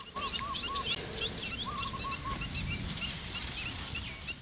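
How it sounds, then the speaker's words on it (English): Faint bird calls and chirps repeat against a steady outdoor hum in rural Thailand, distant and soft, with no one talking. "Hear the birds in the background."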